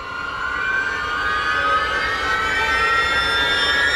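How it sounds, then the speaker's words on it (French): Ambulance siren wailing, a steady rising and falling electronic tone that grows slightly louder as it nears, heard alone without talk. "L'ambulance est là."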